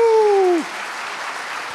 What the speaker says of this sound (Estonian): Teeme veel suurem aplausi Juhan Upin!